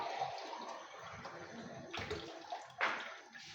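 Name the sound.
water poured into cooking pot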